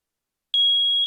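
A smoke detector lets out one steady, piercing electronic beep that begins abruptly partway through and holds loud and clear to the end, with nothing else around it.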